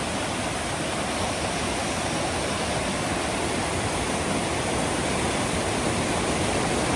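Rushing water of a small mountain river on the trail to a Himalayan bugyal meadow: a loud, steady, broadband roar close by, unbroken throughout and with no voices over it.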